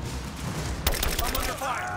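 Sudden burst of rapid gunfire in Rise of the Tomb Raider, starting sharply partway through and continuing as a dense automatic volley over game background noise.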